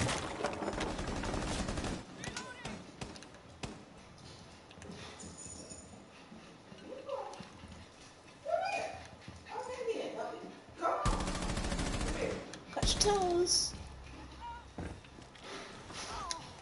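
Bursts of gunfire in a Rainbow Six match, loud sharp volleys at the start and again in clusters later, mixed with footsteps and game noise while players talk.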